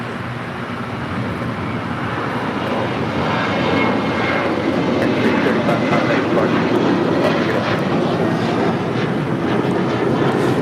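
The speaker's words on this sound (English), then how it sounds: "Asiana, the A380 coming in from Seoul, flight 202, next arrival on the north side" An Asiana Airbus A380 arriving from Seoul at LAX rumbles steadily in a broad, loud engine roar that swells slightly and holds for the whole stretch, with no clear talking.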